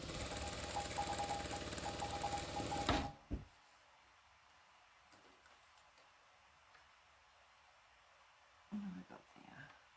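A sewing machine stitches half square triangles in a quilting demonstration, running in a loud, fast rhythmic burst for about three seconds before stopping, followed by quiet handling and a voice.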